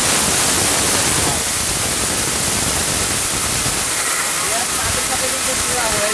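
A 2000-watt electric grinder runs loud and steady, its broadband motor roar grinding material to powder throughout.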